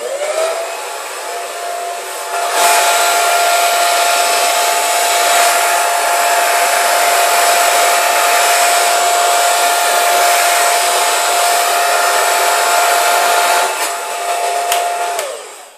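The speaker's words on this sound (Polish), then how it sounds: "puszczamy taką suszarkę" A hair dryer blows with a loud, steady whoosh and a constant whine. It switches on after a couple of seconds, holds for about eleven seconds and then cuts off, with no voices over it.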